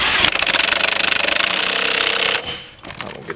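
Power tool, likely an impact wrench, rattling in a fast loud burst while tightening a bolt during a Brembo brake kit install on a V6 Dodge Charger, then cutting off into a quieter tail.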